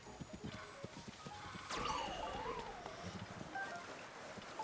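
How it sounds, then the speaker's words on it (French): Horse hooves clip-clop at a steady walking rhythm in Zelda Tears of the Kingdom, accompanied by a brief neigh or whinny and light wind over the game's ambient sound. "on a trouvé un cheval qui nous conviendrait apparemment"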